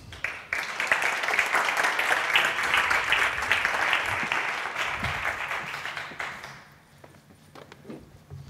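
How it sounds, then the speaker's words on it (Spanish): An audience at a tourism conference bursts into sustained applause that fills the room for several seconds, then fades out abruptly. "Un aplauso."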